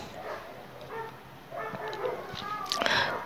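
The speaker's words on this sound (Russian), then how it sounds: "за окном собаки с ума сходит, тогда громко лает" Dogs barking outside a window of a high apartment, heard from a distance as a few scattered yips and barks over a low room hum.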